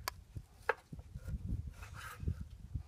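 Knife cutting a cooked rack of lamb down the middle into riblets on a griddle outdoors, giving soft scattered chopping thuds and a few sharp cuts, close and at moderate loudness.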